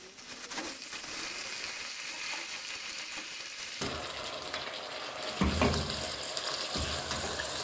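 Shredded cabbage frying in a small pan with an egg, a steady loud sizzle that jumps brighter as more goes in, then crackles on with occasional stirring and no talk.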